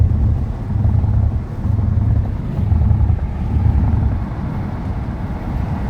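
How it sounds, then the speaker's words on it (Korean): Wind roars through the lowered window of a moving Kia K9 facelift sedan, mixed with road and tire noise, a loud, steady, low buffeting that surges and dips slightly throughout with no one talking. "이 바람 소리와 이 차선의 소리가, 이 시끄러운 소리가"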